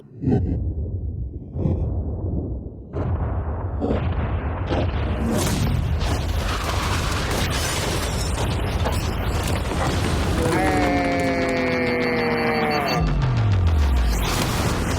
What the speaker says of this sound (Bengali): 3 2 1 উড়িয়ে দাও।